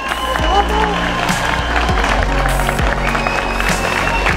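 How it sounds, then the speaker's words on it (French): A crowd claps and cheers for a team called up for third place at a rally awards event in Senegal, with voices and music under the steady applause throughout. "Applaudissez-les fort."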